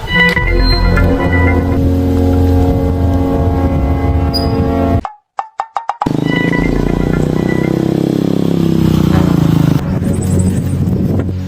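A habal habal motorcycle taxi engine drones loudly and close by, running steadily with a brief drop to near silence broken by a few sharp knocks before the motor resumes.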